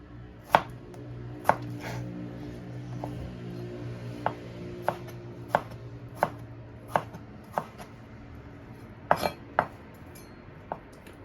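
A knife chops potatoes into fries on a board at home, about a dozen crisp, irregularly spaced cuts, close and distinct over a low steady background hum, with no talking.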